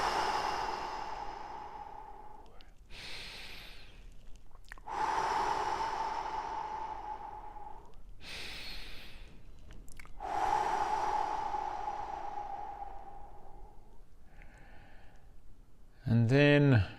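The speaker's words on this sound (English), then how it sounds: "we're going to start by taking, as usual, 3 big deep breaths" Three big deep breaths, each a long audible inhale and slow exhale close to the listener, spaced evenly, followed by a brief loud sound at the end.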